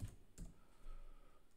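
Typing on a computer keyboard into a command prompt comes through as a few faint, quick key clicks in a quiet room.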